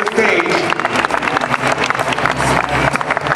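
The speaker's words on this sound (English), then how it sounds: "Let's have a round of applause for these gals." Audience applause for women fitness competitors on stage at a WBFF US Central Championship evening show, dense and steady clapping mixed with crowd noise and a talking voice throughout.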